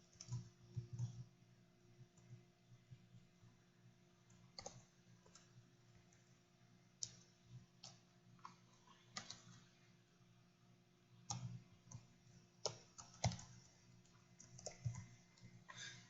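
Quiet, irregular clicking of a computer keyboard being typed on, in short bursts with pauses, alone without talk.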